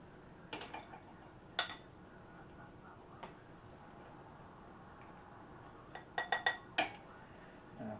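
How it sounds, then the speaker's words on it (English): Utensils scrape and clink against a dish while stuffing is scooped out of a roast turkey, a few sharp metallic taps scattered across quiet kitchen background, clustered near the end. "first thing I should do is scoop out the stuffing"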